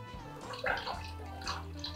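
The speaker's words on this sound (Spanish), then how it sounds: "Estoy removiendo con la ayuda de una lengua para que se filtre la horchata." Homemade tiger nut horchata is stirred with a spatula and strained through a sieve, giving soft liquid swishes and light gurgling over a quiet steady hum.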